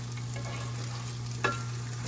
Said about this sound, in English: I'm sizzling the Spam.